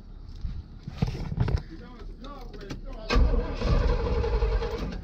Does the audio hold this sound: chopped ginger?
no